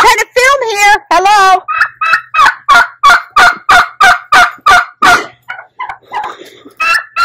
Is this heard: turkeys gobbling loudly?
yes